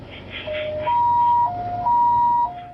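An ambulance siren carrying injured people from a railway accident scene in Taiwan wails in alternating two-tone steps, loud and steady, after a brief murmur of background noise.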